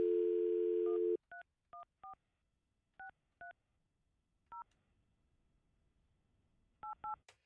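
A landline telephone dials out to call a listener live on a morning radio show: a steady dial tone cuts off, followed by a series of crisp touch-tone beeps in irregular bursts.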